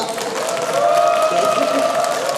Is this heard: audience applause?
yes